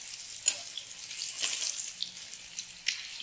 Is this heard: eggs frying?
yes